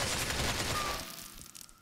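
Gunfire in GTA IV rattles as a fast burst of shots for about a second, then fades into a few scattered, quieter pops; fairly faint overall.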